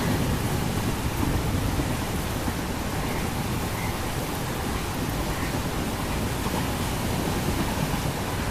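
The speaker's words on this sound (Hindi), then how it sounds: "बढ़िया बारिश शुरू हो गई अभी।" Heavy rain pours steadily and loudly outside a moving express train, a dense unbroken wash of sound with no talk.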